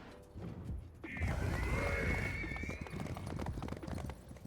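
A horse in a hunting video game gives a loud whinny over a quick, steady clip-clop of galloping hooves, close and clear.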